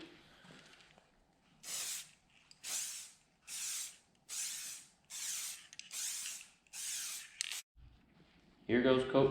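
Seven short bursts of blue spray paint hiss from a can onto a Proline 1978 C10 RC body for a Traxxas Slash, each spray about half a second long with brief gaps, and a short voice comes in at the end.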